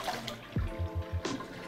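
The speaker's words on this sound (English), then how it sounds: "So after you've rinsed it, lift your filter paper out and empty your water." Water tipped out of a pour-over coffee brewer after rinsing the filter paper, a short close splash and trickle with a few soft knocks of the vessel, no voices.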